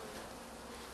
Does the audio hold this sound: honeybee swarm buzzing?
yes